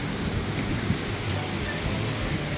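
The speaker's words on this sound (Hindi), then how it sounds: "आवाज आ रहा है पानी का आपको" Water rushes through open dam gates in a loud, continuous roar, a broad steady wash of noise with deep rumble underneath and no pauses.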